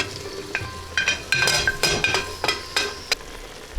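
Onions, green onions, shiitake mushrooms and spinach tipped onto seared stew beef in a single pot for ramen: sizzling bursts come with clinks and knocks of a utensil against the pot, in irregular strokes.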